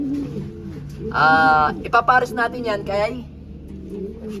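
A pigeon coos in a loft, several soft throaty bursts close by, heard under and between a man's speech.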